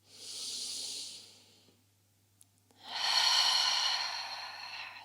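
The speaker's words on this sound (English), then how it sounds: "start to breathe a little bit bigger" Deep breathing during a wall yin yoga relaxation for hips and lower back: a long airy exhale, a pause of near silence, then another big hissing breath, close and alone.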